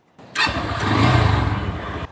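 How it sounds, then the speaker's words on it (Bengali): A motorcycle engine starts with a quick crank, catches, and settles into a loud, steady idle, close by. "এখন বেড়িবাঁধের দিকে যাব, মোটরসাইকেল স্টার্ট দে।"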